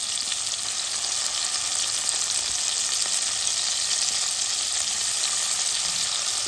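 Raw banana pieces, shrimp, onions and green chillies fry steadily in a pan, a dense, even sizzle with no talk over it.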